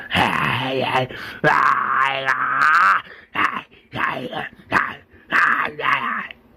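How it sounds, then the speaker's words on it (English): A zombie walker in The Walking Dead growls and groans in drawn-out, guttural bursts, loud and close, with several breaks between rasping moans. "as the walker growls"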